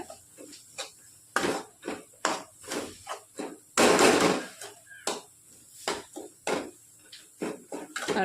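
A potato snack mixture is stirred in a pan with a metal utensil, giving repeated scraping clatters and knocks in an uneven rhythm, close and moderately loud, with one longer scrape midway.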